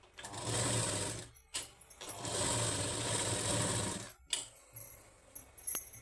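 A sewing machine stitching blouse fabric runs in two long steady bursts with a bright whirring drone, separated by short pauses, then gives a few lighter clicks and brief starts at the end.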